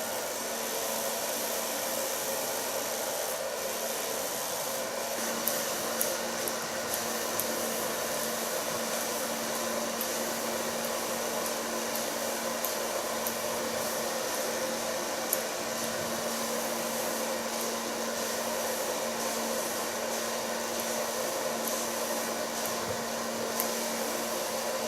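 A hair dryer blowing on a short bob during a haircut, a steady close whooshing roar with a constant motor whine that holds unbroken for the full stretch, with faint handling sounds underneath.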